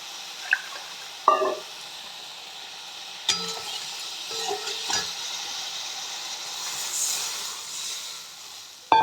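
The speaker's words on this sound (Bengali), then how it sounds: "এবার জল দিয়ে দেবো।" Water poured into a hot pan of fresh river fish curry with grated tomato sizzles into a rising, steady hiss, with a few clinks and scrapes of stirring before it.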